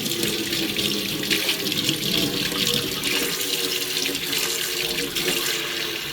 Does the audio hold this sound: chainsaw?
no